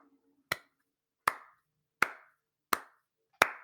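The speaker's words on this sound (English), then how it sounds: "I don't like your sarcastic applause," Five slow, sarcastic single hand claps ring out one by one, evenly spaced about three-quarters of a second apart, sharp and close in an otherwise quiet room with no talking.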